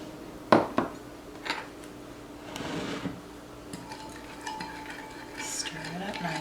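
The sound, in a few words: stirring homemade cleaning solution with vodka in a container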